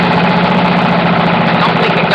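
Lawn mower engine with a worn flywheel brake and a suspect governor, running steadily close up with a throttled, droning roar that stays loud and even throughout.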